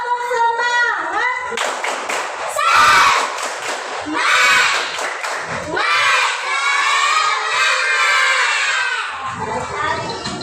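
A primary school class in Indonesia performs the "tepuk semangat" spirit clapping chant, many children shouting and clapping together in loud rhythmic bursts that fill the room for about ten seconds.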